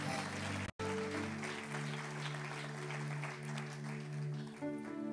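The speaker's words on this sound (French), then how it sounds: "J'aimerais que vous puissiez acclamer le Seigneur pour eux" A church congregation applauds and cheers during a worship service, a dense continuous wash of clapping with sustained musical tones underneath, steady and fairly loud.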